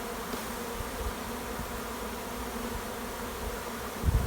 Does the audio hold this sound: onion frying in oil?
no